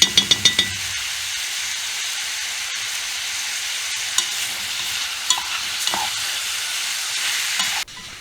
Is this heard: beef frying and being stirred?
yes